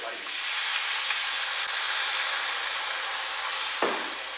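Cooked sauce sizzles loudly and evenly in a hot pan, a steady frying hiss for several seconds with a couple of quick clacks and scrapes from stirring.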